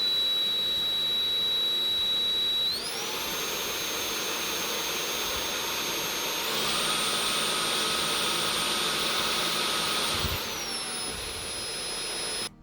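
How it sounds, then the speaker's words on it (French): A Cecotec Conga RockStar 2500 cordless stick vacuum runs steadily up close with a loud, airy whine, its motor pitch rising in steps as it switches between power modes, with no voices. "Je vous laisse entendre le bruit de l'aspirateur."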